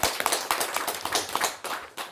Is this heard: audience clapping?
yes